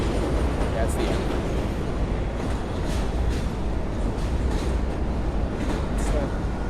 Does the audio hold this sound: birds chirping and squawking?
no